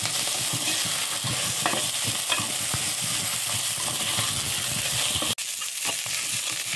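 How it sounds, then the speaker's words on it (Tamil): Okra sizzling in hot oil in a pan, a dense continuous crackle with scattered spatula scrapes and stirring, close up and fairly loud, with a brief cut near the end. "இந்த அளவுக்கு கொஞ்சம் வதக்கி எடுத்துக்கலாம்"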